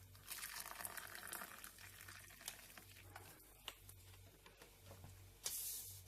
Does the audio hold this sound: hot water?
yes